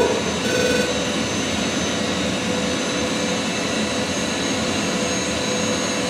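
A simulated F-16 jet engine roars steadily as the throttle is pushed up in a flight simulator game, a dense, constant broadband rumble and whine that holds at an even loudness for several seconds with no talking.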